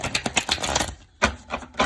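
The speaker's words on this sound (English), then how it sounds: "That was a good shuffle." A deck of tarot cards is shuffled with a rapid, close flurry of crisp riffling snaps, a brief pause, then a few more quick riffle bursts.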